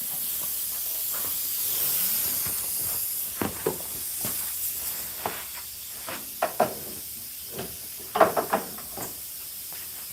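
A spray can dusts pro clear coat in short, light hissing bursts. The puffs are spaced irregularly and sit close to the microphone over a quiet, airy background, with one stronger burst near the end.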